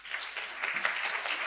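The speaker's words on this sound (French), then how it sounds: "qu'on peut applaudir" An audience at a conference on mathematics and evaluation bias applauds a speaker with brief, moderate clapping heard from a distance in a hall.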